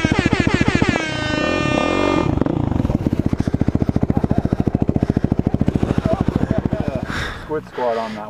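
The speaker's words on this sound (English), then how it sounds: "Some air horns." Loud, blaring air horn tones with a rapid pulsing engine buzz underneath on Trail 717 in Divide, Colorado, continuing for several seconds before a brief voice breaks in near the end.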